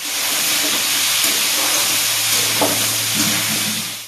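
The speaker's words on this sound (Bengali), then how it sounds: "সব কিছু ভালোভাবে দিয়ে ডাঁটা ও আলুটাকে একসাথে কষিয়ে নিতে হবে।" Red amaranth stems and potatoes with salt and turmeric sautéing in a pan, giving a steady close sizzle and hiss throughout, with a few soft stirring scrapes.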